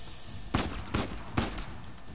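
Three sharp gunshots ring out in the action game Uncharted 4, evenly spaced about half a second apart and loud against a steady background hiss.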